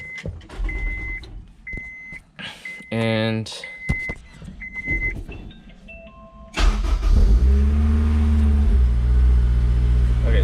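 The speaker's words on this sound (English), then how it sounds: "So head to the car and turn it on." A Honda S2000 sports car engine cranks and catches, then settles into a loud, steady idle close by after a few electronic chimes, following brief talk earlier in the clip.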